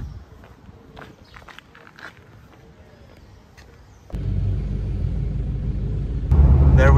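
A car sets off heading south on a road trip in Argentina: soft footsteps and shuffling first, then a deep engine and road rumble that switches on abruptly and steps up louder near the end.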